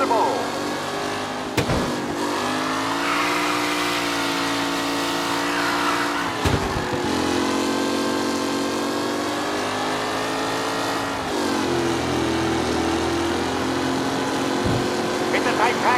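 Race cars speeding around a track: a loud, sustained engine drone with gliding pitch, dipping and climbing as cars pass and shift, broken by a few sharp transients, with a commentator's voice over it.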